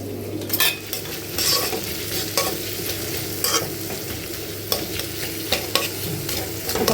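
Onion goes into a hot pan and sizzles continuously, with repeated scrapes and clinks of a utensil stirring through it, close and steady with no voices.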